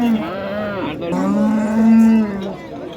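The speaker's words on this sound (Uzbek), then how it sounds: "Mana ular ham kichkina ixcham sigir ekan" A cow moos in two long, low bellows, close by and loud, the second call drawn out and steady before fading.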